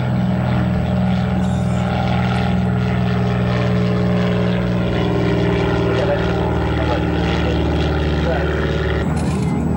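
A small propeller aircraft makes a slow, low pass at an airport air show at about 75 knots. Its engine drones loud and steady throughout, with crowd voices faintly underneath.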